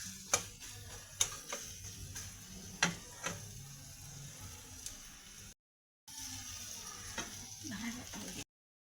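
An egg fries and is broken into crumbles in a pan: a faint, low sizzle with sharp spatula taps and scrapes, cut by a brief silent gap near the end.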